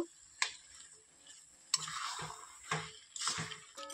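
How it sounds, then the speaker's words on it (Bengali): Taro leaves are stirred with ghee in a pan while being cooked with a rohu fish head. A spoon scrapes the pan in a few irregular strokes over a faint sizzle, quiet and close, with no talking. "এবার এটাকে আমি ভালোভাবে নেড়ে নিব।"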